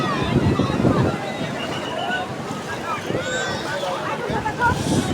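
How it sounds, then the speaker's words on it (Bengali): Sea waves wash up onto a beach with a rushing, churning surge close by, mixed with gusts of wind buffeting the microphone while someone wades through shallow water. "এই ঢেউ চলে আসছে"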